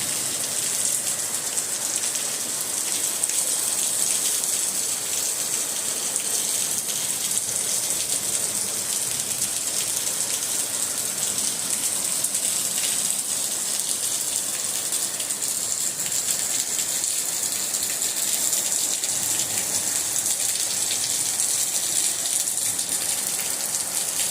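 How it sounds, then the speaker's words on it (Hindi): Heavy monsoon downpour in India, a dense, steady roar of rain drumming on surfaces that stays loud and even throughout, close by and with no voices. "मैंने चातुर्मास की ये पहली इतनी तगड़ी बारिश आज देखने को मिल रही है।"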